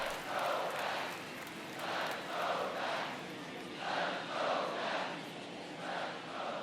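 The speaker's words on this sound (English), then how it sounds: "These fans, they are ready to cheer about something." Stadium crowd of fans in the MLB The Show 24 baseball video game, Dodgers at Mets, roaring in broad rolling waves that swell and fade repeatedly, loud and continuous, with no clear talk on top.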